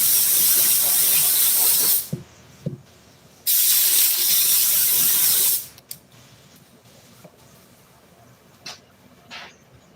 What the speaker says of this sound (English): Spray this glue back on there.